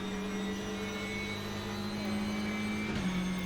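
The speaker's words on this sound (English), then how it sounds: "you can hear Anders using the gearing, going higher in the revs in the gearing compared to Yogi" A simulated WTCR touring car in the RaceRoom racing game laps Silverstone, its engine revving high through the gears. The whine is steady and droning, and a drop in pitch near the end marks a gear change.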